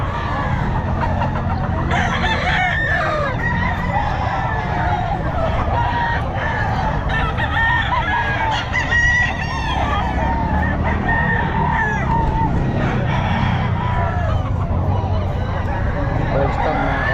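Lemon Sweater gamefowl roosters at the busy Bocaue pet market, repeated loud crowing and clucking over a constant crowd babble, with people talking nearby.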